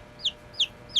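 Backyard flock of about ten hens and four roosters, with three short, evenly spaced high chicken calls ringing clearly over a low farmyard background.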